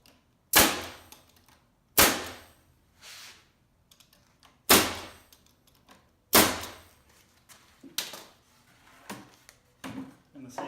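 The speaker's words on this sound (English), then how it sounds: "now we'll staple this one on." A pneumatic stapler fires staples into a 1x4 board on a skirt board, giving four sharp close snaps spaced about two seconds apart, followed by softer scattered clicks and handling noises.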